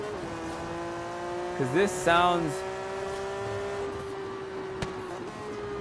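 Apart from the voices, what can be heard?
Twin turbo Jaguar XJ220 engine revving, Forza Horizon 3 video game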